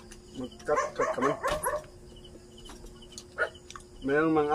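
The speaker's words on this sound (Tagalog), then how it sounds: "Mayroong mga aso dito ka sa likod ko ah" Several dogs bark in a quick cluster near the start, with insects chirring in the background and a voice speaking toward the end.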